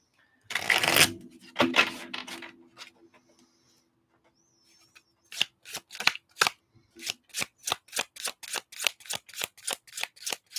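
Close riffle of a tarot deck being shuffled, followed after a pause by a steady run of sharp, evenly spaced card snaps or taps.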